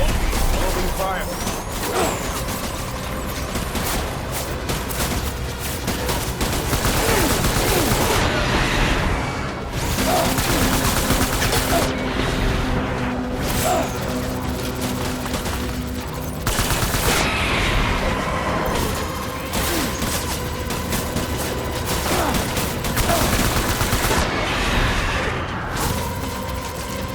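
Video game gunfire from Death Stranding Director's Cut: dense, sustained volleys and booms roll on for the whole stretch, mixed under voices and a busy battle soundscape.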